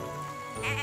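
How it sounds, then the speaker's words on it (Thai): Goat bleating in the farming video game Everdream Valley, a short, close, wavering bleat that swells near the end and stands alone with no talk. "มีแพะด้วยนะ"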